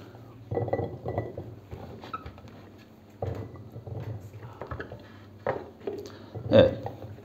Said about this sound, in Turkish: Öncelikle eriği bir kavanoza dolduruyoruz.